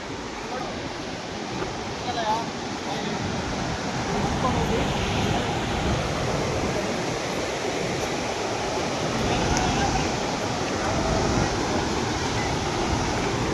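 A steady, dense roar of rushing water fills the whole stretch, unbroken and fairly loud, like a waterfall heard from close by.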